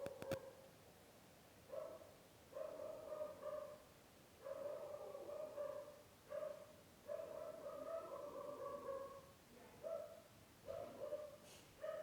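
A dog barks repeatedly in short bursts from another room, someone apparently at the door, the barks moderately loud and spread across the clip with brief pauses between volleys.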